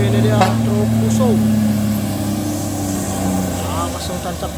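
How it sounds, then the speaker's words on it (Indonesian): A Fuso truck engine drones steadily as it climbs a steep uphill road, a loud, low, sustained roar with a voice talking over it. "ini dia truk Fuso"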